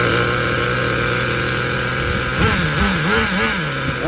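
A Traxxas Nitro Slash 3.3 RC car's nitro engine runs nearby with a steady high buzz, then revs up and down in quick wavering bursts toward the end.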